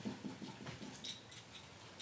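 A small mini-breed dog whimpers and whines softly in a quiet home, several faint, high-pitched cries scattered over a couple of seconds with no talking.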